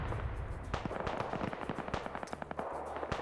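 Squads trade gunfire in a military video game, a close flurry of sharp rapid shots and short bursts cracking one after another without pause.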